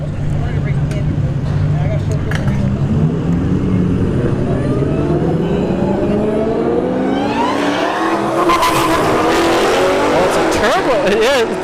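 A twin-turbo Lamborghini Huracan and a Hellcat Dodge Charger launch down a drag strip, engines roaring as the pitch climbs through the gears. Loud and sustained, with commentary running over the noise.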